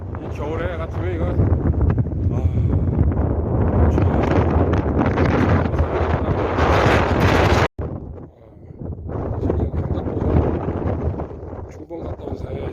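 Strong wind on Deogyusan mountain buffeting the microphone in a loud, continuous roar with a brief dropout partway, and a voice speaking underneath at times.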